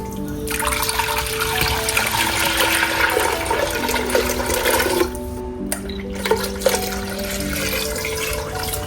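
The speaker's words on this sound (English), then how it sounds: "I'm gonna go ahead and add the sauce that we made and add 4 more cups of water." Liquid pours and splashes into a cooking pot as sauce and several cups of water go in, a continuous rushing gush with brief pauses and trickles near the end, close up.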